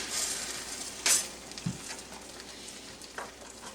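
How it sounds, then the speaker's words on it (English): Rice-A-Roni is poured into a hot buttered pan, giving a faint fry hiss with a sharp sizzling burst and a few soft scraping stirs, close and fairly quiet. "now that my pan's getting hot, I'm going to go ahead and add my Rice A Roni in there"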